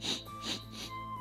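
A voice imitates an old dog sniffing: three short, breathy sniffs in quick succession, close and fairly soft, with a steady low hum underneath.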